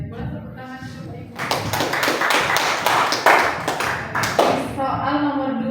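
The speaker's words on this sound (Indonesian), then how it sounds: "boleh tepuk tangan Bapak Ibu" Teachers at a vocational high school workshop clap together for a presenter, a burst of applause that swells for about three seconds over a roomful of chatter and talk.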